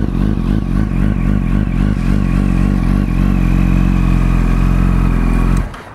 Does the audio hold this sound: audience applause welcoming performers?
no